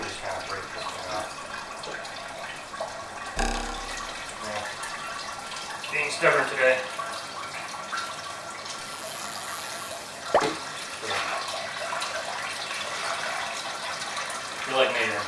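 About 2.5 gallons of water from a jug pours and splashes into a homebrew coffee IPA mash, a steady gurgling stream with occasional louder glugs, while a person speaks briefly.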